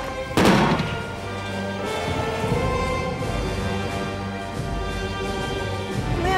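Artillery gun firing in a drama scene: one heavy booming blast near the start, followed by a sustained rumbling, crackling din that carries on loudly to the end.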